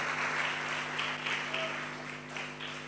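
A church congregation claps together, a dense wash of many hands that swells and fades in waves and sounds a little distant in the hall, with a faint voice behind it.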